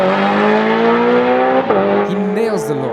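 NXGEN Evo drag car with a sequential gearbox launching down the strip, its engine roaring loud and steady at high revs before dipping and climbing again through quick gear changes.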